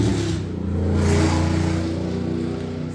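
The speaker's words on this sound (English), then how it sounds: "So sorry about that loud car." A loud car revs outside, its engine droning and rising in a steady, sustained roar that swells slightly mid-way and holds, heard alone without talk.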